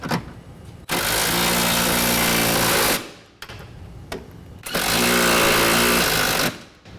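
A power tool drives running board bolts into a rocker panel in two loud, sustained bursts of a few seconds each, separated by a short pause and brief clicks.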